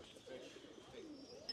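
Doves cooing at a village animal enclosure in Mexico near Chichén Itzá, a soft low murmur sitting under background voices, with faint higher chirps mixed in.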